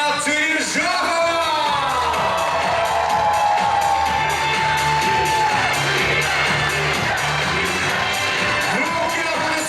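Audience at a university pageant crowning Miss and Mister, bursting into loud cheering, whoops and applause that swell and hold for several seconds, with an announcer's voice over the crowd.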